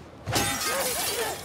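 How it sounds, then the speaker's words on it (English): Glass shatters in one sudden, loud crash, followed by a bright spray of falling fragments and a few wavering, ringing tones that trail on for about a second. "Is there a way in that's not breaking the glass?"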